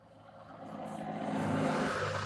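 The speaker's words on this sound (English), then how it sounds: "traffic's probably a little bit loud" Road traffic heard from inside a parked van, a low rumbling wash of passing vehicles that swells steadily louder over a couple of seconds.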